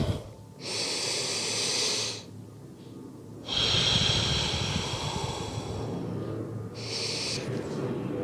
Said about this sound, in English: Take that breath up into the rib cage and then a long, slow exhale out.